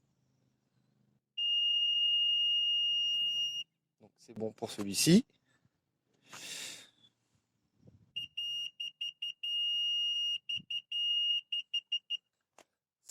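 A budget reversing radar parking sensor gives a long, steady high-pitched tone, then a rapid series of short beeps, loud and close. Someone speaks French in the gap between them.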